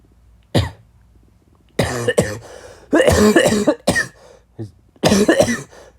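A person coughing in several harsh, loud bursts with short pauses between them, some coming in quick clusters, close by with no other sound.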